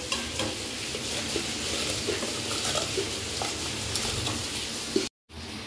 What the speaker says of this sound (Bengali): এবার আমি এই যে চালটা ভিজিয়ে রেখেছিলাম, চালটা এর মধ্যে এবার দিয়ে দেবো।